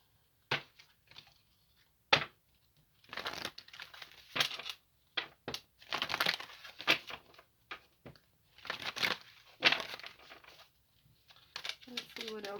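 Tarot cards are handled and shuffled in a run of dry, papery riffles and slaps, some sharp and some in longer crinkly bursts, heard close with short pauses between them.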